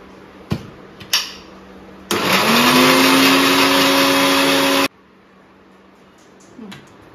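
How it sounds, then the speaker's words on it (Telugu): A mixer grinder finely grinds garlic in one loud, steady, close whir lasting about three seconds, with a rising motor whine, preceded and followed by a few sharp knocks and handling clicks. "దీన్ని కూడా ఒకసారి ఫైన్గా గ్రైండ్ చేసుకుందాం."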